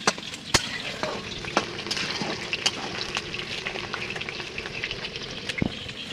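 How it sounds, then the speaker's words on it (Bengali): Potatoes fry in a pan at an outdoor picnic, a steady loud sizzle and bubbling with occasional sharp clinks and scrapes of stirring. "সুদীপ্ত বিশ্বাস আমাদের আলু ভেজে নিচ্ছে, লাল লাল করে একটু ভেজে নেব।"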